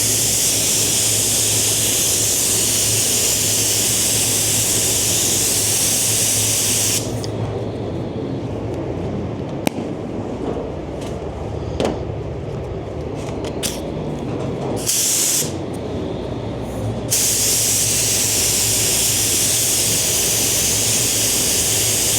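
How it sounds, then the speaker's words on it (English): Spray gun laying a third coat of paint on a Lamborghini Revuelto: a steady, loud, continuous hiss that cuts off briefly a few times mid-pass, then resumes, with no talk. "when I'm painting, I'm angling the gun this way."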